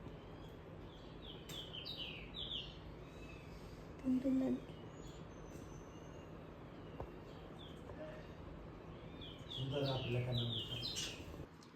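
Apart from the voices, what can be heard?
sparrows chirping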